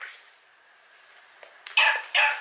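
A children's sound book plays an electronic dog bark twice in quick succession, tinny and bright, following a soft button click and quiet background.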